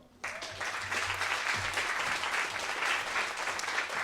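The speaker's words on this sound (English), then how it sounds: "You're saving your applause to the winner." Muted audience applause at a live university research-talk final, starting abruptly and holding as an even, moderate wash of clapping with no voices over it.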